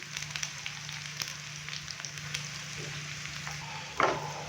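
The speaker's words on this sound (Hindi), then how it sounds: "हल्का सा फ्राई करेंगे।" Whole red chillies and cumin seeds fry in hot oil for a tadka for Kashmiri dal, giving a steady, soft sizzle close by, with a brief sharper crackle near the end.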